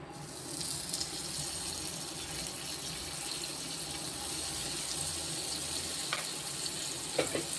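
Butter melts and sizzles in a pan before sweet corn is fried for a chapati gravy. A steady, close frying hiss runs throughout, with a few faint clicks and taps near the end.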